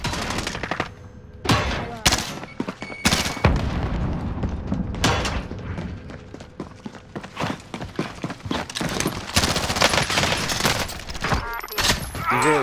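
Gunfire in the video game Call of Duty: Modern Warfare, with dense bursts of rapid automatic shots and scattered single cracks, loud and close, pausing briefly before resuming in heavier volleys.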